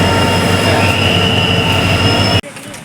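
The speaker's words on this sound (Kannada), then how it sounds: "ಮೈಸೂರು ಚಾಮರಾಜನಗರ ಪ್ಯಾಸೆಂಜರ್." A Mysuru–Chamarajanagar passenger train passes near Nanjangud railway station, rumbling loudly with steady wheel noise and a high metallic squeal, cutting off abruptly near the end.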